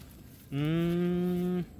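A single cow on a cattle farm gives one clear, loud moo about a second long, alone against quiet background noise.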